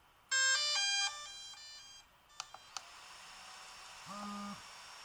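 A DJI drone and its smart controller power up with a loud run of stacked electronic start-up tones, then a few short clicks and a lower two-tone chime, with no talking.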